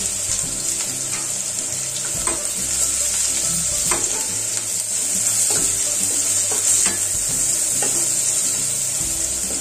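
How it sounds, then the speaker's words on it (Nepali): Onion frying with turmeric in a pan for a Nepali veg thali, a steady loud sizzle throughout with occasional scraping stirs and clinks, no voices. "अनि प्याज अलिकति हर्दी राखेर यसलाई एकछिन फ्राई गरौँ"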